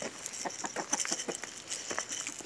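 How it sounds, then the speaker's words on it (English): Homestead chickens clucking nearby, a quiet run of short, irregular clucks and soft scratching sounds with no talk. "Here, chicks."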